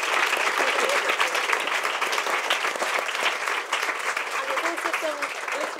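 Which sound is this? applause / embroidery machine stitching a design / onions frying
applause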